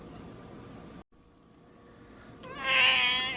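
A single drawn-out cat meow rises near the end of a quiet indoor stretch, close and fairly loud after a low steady background hiss, with no speech.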